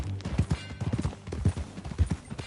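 Horse hooves clip-clopping at a steady walking rhythm in the open-world western video game Red Dead Redemption 2, close and distinct, with soft low thuds repeating alone for the whole stretch.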